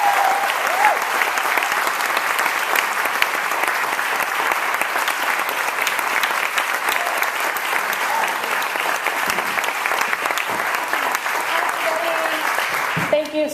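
A conference audience at a summit on homeless LGBT youth claps in sustained, even applause to welcome a speaker to the stage, loud and continuous with a few voices under it.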